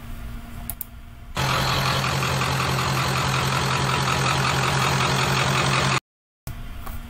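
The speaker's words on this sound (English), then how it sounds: "Bronco running for the first time with its exhaust on and making lots of pretty whistly turbo noises" A 7.3 Powerstroke diesel engine in a Bronco runs with its exhaust fitted, a steady loud idle drone with a high turbo whistle on top, starting after a quiet second and cutting out briefly near the end.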